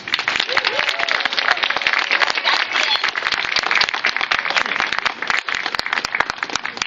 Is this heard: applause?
yes